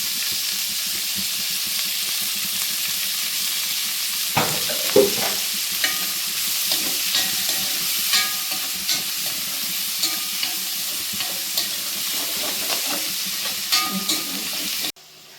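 Onion pieces fry in oil with a continuous close hiss and sizzle, while a utensil taps and scrapes the pan at a regular pace through most of the stretch.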